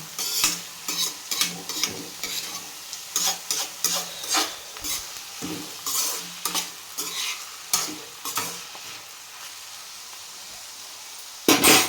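Onion pieces fry and get stirred in a pan, with a loud, busy run of scraping spoon strokes over steady sizzling and a final burst of clatter at the end.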